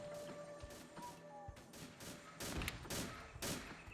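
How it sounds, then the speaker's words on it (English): Scattered gunshots and sharp cracks in a Vietnam-era Indochina war video game, irregular bursts of fire at mid distance, some louder volleys toward the end. "We're still taking shots from the southeast"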